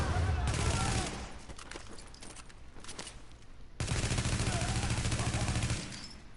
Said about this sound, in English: A well-placed flashbang grenade, huh?